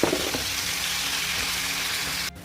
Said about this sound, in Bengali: তেল গরম দেওয়া হয়েছে, আলু দিয়ে দিলাম লবণ, হলুদ, এগুলো আপনার ভালো করে ভাজা নেবো।